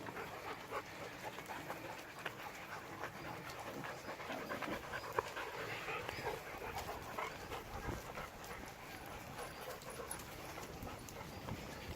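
A dog panting steadily and close by on a morning walk, with rustling and faint footsteps under the continuous breathing.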